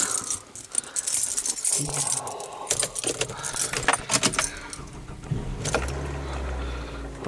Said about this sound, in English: Okay, we get the keys.